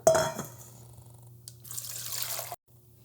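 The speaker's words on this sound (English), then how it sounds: "let's go ahead and strain off the water" Water pours and splashes for a few seconds, a hissy rush of liquid draining off soaked peppercorns, then stops abruptly.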